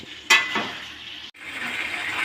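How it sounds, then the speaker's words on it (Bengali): New potatoes frying together with chicken pieces in a pan, making a sizzle with clinks and scrapes as they are stirred, then a brief pause before the frying hiss resumes. "নতুন আলু তো কষতে একটু দেরি হবে, সিদ্ধ হতে একটু দেরি হবে, তাই একবারে মাংসের সঙ্গে কষিয়ে নিচ্ছি"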